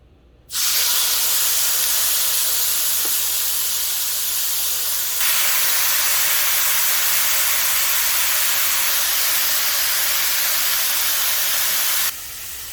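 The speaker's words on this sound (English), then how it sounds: "Now I'm going to start adding my carne asada" Carne asada sizzling on a hot pan coated with non-stick cooking spray, a loud steady hiss that starts abruptly, swells a little midway and cuts off near the end.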